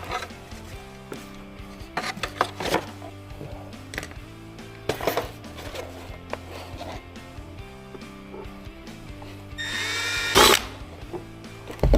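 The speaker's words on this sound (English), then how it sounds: "I'm just going to drill one hole to start, put one screw in" A power drill bores a hole through a base mount in short close bursts, with clicks and handling noise between and a louder whirring spin near the end.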